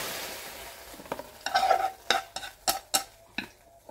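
Celery stir-fried in a pan: quiet sizzling first, then a series of sharp, rhythmic scraping tosses of the spatula against the pan, close and distinct, with no voices.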